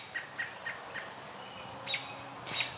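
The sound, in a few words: wild birds singing in the woods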